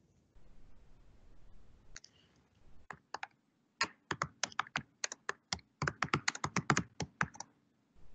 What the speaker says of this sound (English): I'm gonna take the fact that Matthias is typing